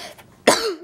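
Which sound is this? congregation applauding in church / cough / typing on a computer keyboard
cough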